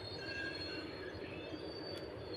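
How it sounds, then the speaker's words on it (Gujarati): A train rolls past with a steady rumble and high, drawn-out wheel squeal, heard from a short distance without talk. "મારી પાછળ તમે જુઓ ટ્રેન જાય છે"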